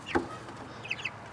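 A chicken clucks loudly once nearby, followed by a couple of softer, higher chirps from young chickens against a quiet barnyard background.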